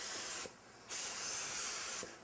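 An HVLP spray gun sprays finish in a steady, close hiss that briefly cuts out and then resumes, with two short trigger pauses and no talking.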